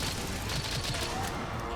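Dense, rapid gunfire rattles continuously from a ranged gun in the video game Monster Hunter Rise, loud and unbroken throughout, with no pause between shots.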